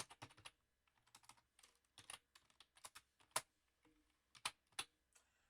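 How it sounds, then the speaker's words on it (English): Quiet, close clicks of a computer keyboard come in short irregular bursts as an equation is typed in, with brief pauses between keystroke clusters and sharper taps near the end. "Let me go ahead and type in my equation."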